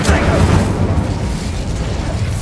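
A Bombarda spell explosion in the video game Hogwarts Legacy: a loud, dense, rumbling blast that fills the whole clip with sustained low roar and crackling debris noise.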